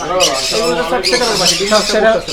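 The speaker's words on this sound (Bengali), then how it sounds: "এখানে ভাইয়ের খামার মাসাল্লাহ অনেক পাখি আছে" Birds at a bird farm squawk and call loudly and continuously, with human voices mixed in among them.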